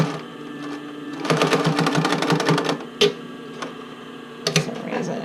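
A sewing machine stitches a Porcelynne Eve Classic bra in a rapid burst of mechanical needle clatter lasting about a second and a half, followed by a few isolated clunks and taps.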